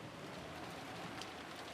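Rain falling as a video game sound effect, a soft, steady hiss of drops that stays faint and even with no other sounds.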